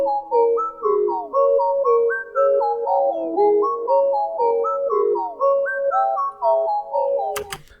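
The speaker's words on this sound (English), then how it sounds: "that reverse lead is kind of just adding some more atmosphere and depth to the beat" Beat built from a reversed Nexus lead layered with a second lead, gliding melodic notes swelling in rhythmic pulses, loud and clear with no voices, ending in a sharp click.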